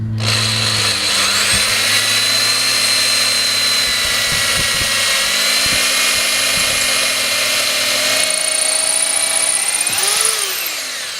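Power drill boring pilot holes in raised bed boards, a loud, steady, high-pitched whine held close for about ten seconds with small shifts in pitch as it cuts, then winding down at the end.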